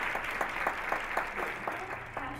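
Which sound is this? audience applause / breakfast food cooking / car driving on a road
audience applause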